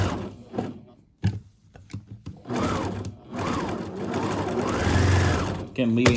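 A sewing machine stitches a store-bought quilt with white thread, running in short close whirring bursts that settle into a longer steady hum, with a person talking over parts of it.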